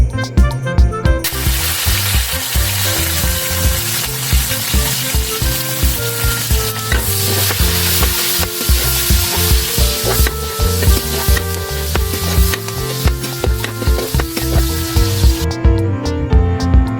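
Onion frying loudly with chicken for a chicken caldereta, a dense continuous sizzle with crackling and stirring clatter, close up and constant, no one talking.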